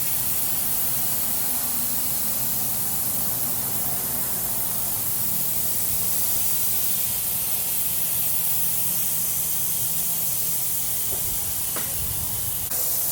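A continuous, loud hiss of spray painting as base coat goes onto the door handles of an OBS truck, steady and close throughout with no talk.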